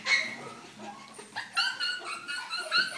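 A Border Collie being vaccinated whimpers and yips in a run of high, whining cries with a few short barks, close by and fairly faint.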